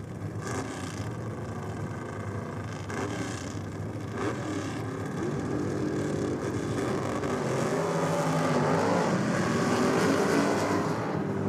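Nitrous-assisted drag racing car doing a dry hop at a championship drag strip: a loud, sustained engine roar with bursts of revving that swells louder toward the end.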